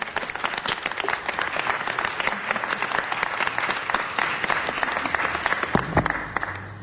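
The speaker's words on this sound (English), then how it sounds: "Please give her a round of applause." An audience at a city council meeting gives sustained applause, with crisp, dense clapping holding steady before tapering off at the close.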